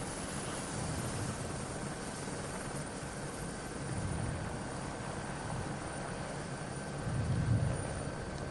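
A helicopter hovering over the podium at the Faun-Ardèche Classic 2023 bicycle race, a continuous rotor drone with low throbbing swells that rise and fall, with no voices in it.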